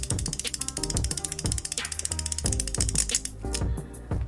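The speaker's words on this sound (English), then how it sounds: "you can then attach your winder and then get winding" Rapid ratcheting clicks from a Beyblade Gaia Dragoon launcher winder being wound, a loud, close, steady burst of mechanical ticking that runs in short repeated pulls with brief pauses.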